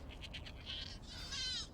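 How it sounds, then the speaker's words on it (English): A goat bleats in a barn, giving a couple of wavering, nasal cries at moderate distance over a low background rumble. "That was one of my goats."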